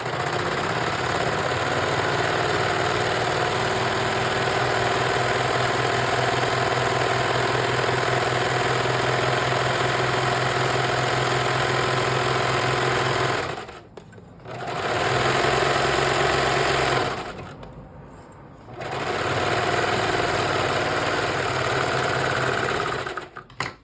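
Sewing machine stitching a back strap on a tri top, a loud steady mechanical whir that runs long, stops briefly twice and starts again, with no talking.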